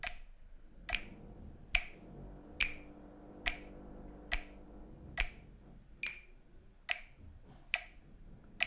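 Sharp, crisp finger snaps land at a steady, evenly spaced pulse, about ten in all, close and clear against a quiet background, with a faint tick that could be a metronome keeping the beat.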